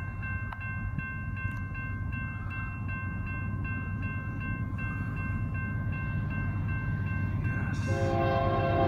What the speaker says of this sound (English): Green train.